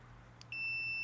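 Electrical continuity tester gives a single short, clear high-pitched beep that then holds as a steady tone, confirming a wire connection during circuit breaker maintenance, faint over a low background hum.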